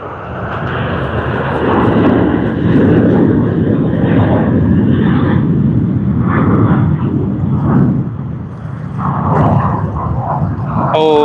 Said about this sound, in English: We just had the Airbus A380 come in from Singapore Airlines